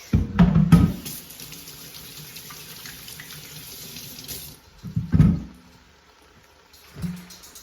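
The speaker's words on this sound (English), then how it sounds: "Let me wash my hands real quick." Hands being washed under a running kitchen tap, with water streaming steadily into a sink for several seconds and louder splashes at the start and near the end, then a brief burst as the flow is disturbed again.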